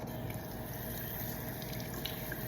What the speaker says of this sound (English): So I'm gonna wet my hands and then get soap and wash my hands